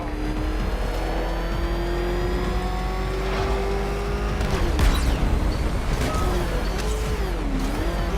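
Batman's Batmobile engine in Batman: Arkham Knight revs and drones steadily, its pitch climbing slowly before a sharp burst and a sudden shift, then swooping up and down under game music and effects.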